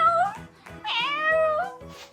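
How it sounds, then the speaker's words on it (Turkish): A cat meows nearby, several drawn-out tonal mews in a row, loud and clear, with no talk over them. "Ay miyavlıyor Ada."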